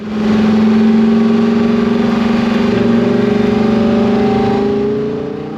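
A loud, high-pitched Lamborghini Huracan STO V10 engine revs toward nearly 9,000 RPM and holds a sustained roar, rising slightly in pitch, close by with no voices.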